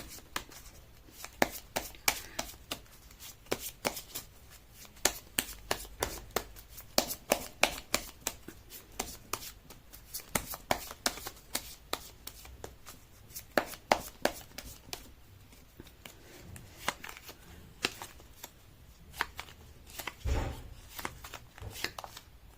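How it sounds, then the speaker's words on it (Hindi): Tarot cards being shuffled by hand, a long run of quick, crisp riffling flutters and soft slaps, close up and fairly quiet, continuing steadily with brief pauses and no talk. "मैं कर लेती हूँ कार्ड की शफलिंग।"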